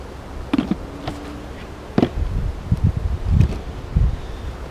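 Honeybees buzz around an opened hive after smoking, a low droning hum under scattered rustling and handling noises, close to the microphone with some wind, no speech.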